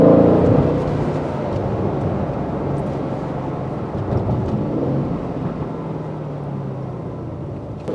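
A car engine revs loudly and steadily close by for the whole stretch, a broad rumbling roar with no talk over it.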